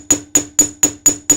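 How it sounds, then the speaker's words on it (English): Six sharp, evenly spaced hammer strikes on a wire edge, flattening it to about half its thickness, each blow ringing with a bright metallic ping, close and loud with no talking. "I'm just going to hammer that edge just a little bit"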